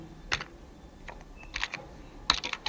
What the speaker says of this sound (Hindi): हम यहाँ से स्थान टाइप करेंगे